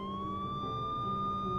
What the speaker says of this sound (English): I notice a line of police cars surrounding the entrance gate, lights flaring and sirens blaring.